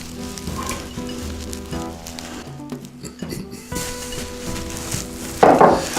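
Finely diced onions frying in a little oil in a pan, a steady close sizzle throughout with a louder crackling burst near the end.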